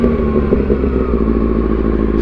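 A motorcycle rolling over a speed bump, its engine a loud, steady low rumble close to the rider with a faint clatter of the suspension, brief and continuous.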